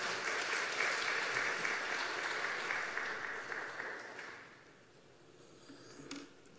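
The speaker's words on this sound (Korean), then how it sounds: "박수로 환영하겠습니다." A church congregation applauding in welcome of a visiting preacher at a Sunday worship service, a dense, sustained clapping that fades out over several seconds, leaving quiet room tone with a faint knock near the end.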